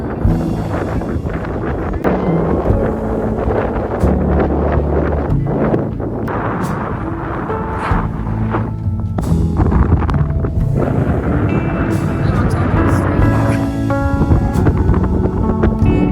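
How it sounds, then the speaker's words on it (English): Strong wind on Mount Kosciuszko roars and buffets the microphone steadily throughout, a dense rumbling rush with gusty surges and no speech. "The wind is insane."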